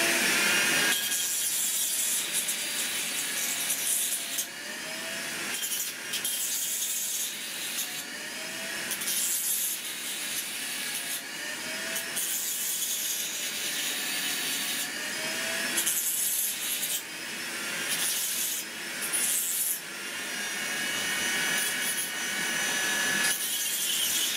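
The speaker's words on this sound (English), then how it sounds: "I grinded these four tabs" A grinder works on plastic tabs of a Nerf blaster kit with a loud, whining, rasping grind close at hand, running in repeated passes with short pauses between them.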